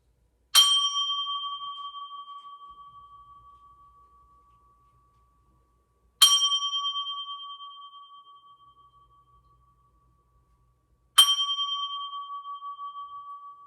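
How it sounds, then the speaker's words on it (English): A meditation singing bowl is struck three times at slow, even intervals. Each strike is a clear ringing tone that fades away slowly, and there is quiet between strikes. "I'll start our meditation off chiming the bowl 3 times."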